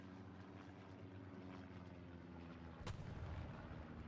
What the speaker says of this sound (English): Sounds like a recon plane going up over the top.